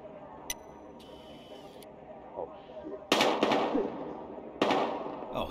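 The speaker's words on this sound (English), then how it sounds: "We've got gunshots." Bursts of gunfire crackle in two loud volleys in Battlefield Hardline, with faint clicks and background noise in between.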